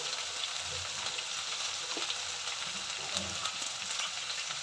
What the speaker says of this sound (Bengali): দিয়ে নাড়াচাড়া করে নেবো বন্ধুরা